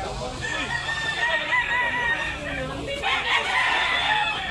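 A yellow-legged Pumpkin Sweater gamecock rooster crows repeatedly at a Cebu fowl sale, its calls overlapping other roosters and clucking nearby, with faint voices in the background.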